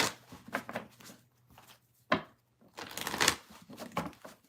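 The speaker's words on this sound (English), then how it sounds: "All right, last shuffle," Tarot cards riffled and shuffled at close range in a few quick bursts, with soft papery flutters and a sharper snap near the middle, over a low steady hum.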